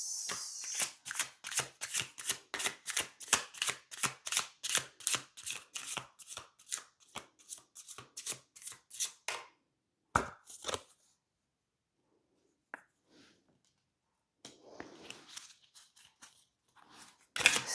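Tarot cards shuffled and handled in a rapid, steady riffle of crisp flicks for about nine seconds, then a few scattered card slaps and soft sliding sounds after a pause, close and clear with no talking.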